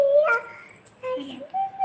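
A puppy whimpers close by in a few short, high, thin whines, separated by brief pauses.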